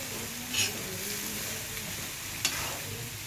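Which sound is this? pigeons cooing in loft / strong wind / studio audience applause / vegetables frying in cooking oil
vegetables frying in cooking oil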